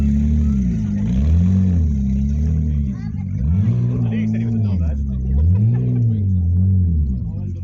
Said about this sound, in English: Here comes the Turbo S